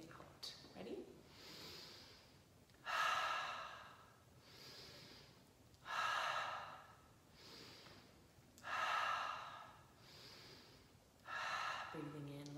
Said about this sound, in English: We're gonna breathe in as we close our wings. We're gonna breathe out as we bring our wings gently out.